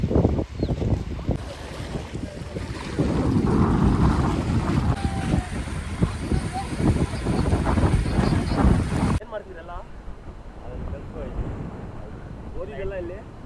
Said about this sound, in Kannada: ಗಾಳಿ ಎತ್ಕೊಂಡು ಹೋಗ್ಬಿಡಂಗೈತೆ.